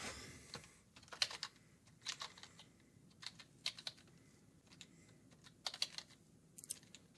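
Quiet bursts of typing on a computer keyboard, clusters of keystrokes separated by short pauses, close and fairly soft with no talking.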